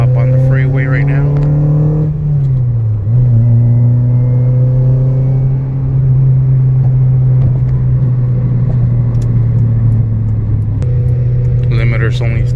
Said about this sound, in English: Open throttle all the way. Low RPMs. Alright, we're about to hop on the freeway right now.